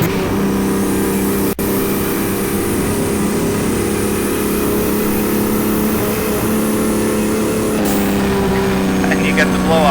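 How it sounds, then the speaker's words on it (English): A BMW M1 racing car with turbos in the rFactor racing game roars with a loud, steady engine drone and turbo whine, with one sharp gearshift break, while someone talks over it. "You can hear the engine, the turbos."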